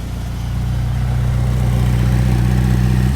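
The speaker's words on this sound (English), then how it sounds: "This is what the F8 Tributo sounds like." A 2020 Ferrari F8 Tributo's engine runs steadily behind the car, a loud deep drone with a strong low hum that swells slightly, heard alone with no talking.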